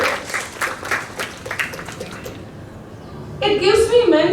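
Applause and clapping from an audience, fairly steady, following a man's spoken announcement and then fading as another voice begins.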